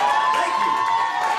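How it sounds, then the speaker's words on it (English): A comedy showcase crowd claps and cheers for a stand-up comedian, a steady mass of clapping and shouting with a ringing tone running through it, loud and unbroken for the whole moment. "you guys can fucking clap for me"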